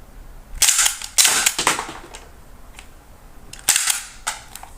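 Several sharp, loud cracks from a 3D printed toy gun with blowback firing and ejecting shells, arriving in short bursts with quick clicks between, close up and with no talk.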